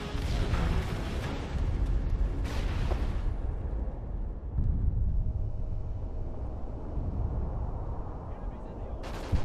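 Heavy blasts and gunfire in a search and destroy video game match, with a dense roaring explosion rumble and sharp bangs, loud and sustained, with a voice shouting over it.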